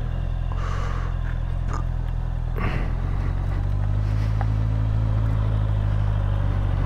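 Motorcycle fitted with a grip heater and handlebar covers rides along on a winter road. A steady low engine drone runs throughout, with a few brief knocks and rustles near the rider.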